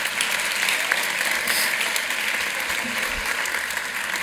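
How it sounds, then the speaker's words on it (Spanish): A crowd of new students and guests at a university welcome ceremony applauds, a dense, steady wash of clapping that carries on evenly throughout. "Un aplauso para ustedes, por supuesto."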